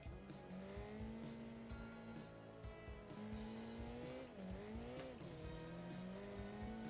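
Racing hatchbacks in a driving game, engine whining and dipping through gear shifts while tyres squeal almost continuously, loud and steady throughout.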